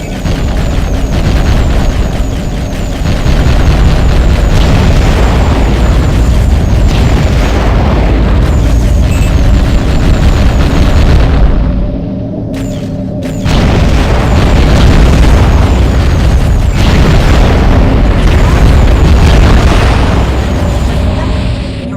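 Heavy booms and bursts in the Aquanox underwater game as junk at the docks is blown apart, a loud, dense rumble of blasts running almost continuously, with a short lull midway before the detonations resume.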